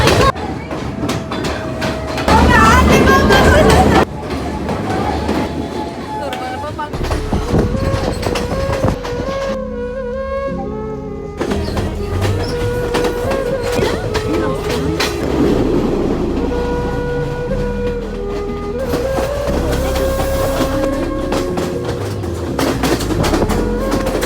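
Passenger train ride through the Sri Lankan hill country, with steady rolling rumble and rattling carriages throughout, a brief quieter passage midway, and occasional clicks of wheels over rail joints.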